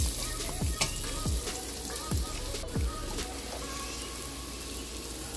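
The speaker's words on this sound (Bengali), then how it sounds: "আম আর আলুটা বেশ সুন্দর করে ভাজা হয়ে গেলে আমি এর মধ্যেই দিয়ে দিলাম ফোড়নের" Cumin seeds crackle and sizzle in hot oil in a pan of fried raw mango and potato pieces, a steady close frying hiss with a few sharp pops and clinks, no talking.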